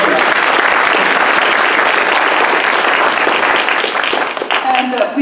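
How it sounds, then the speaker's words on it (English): Sustained audience applause at a startup challenge finale, a dense, loud wash of many hands clapping at once that holds steady and thins slightly toward the end, with faint voices mixed in. "let's just give him a round of applause."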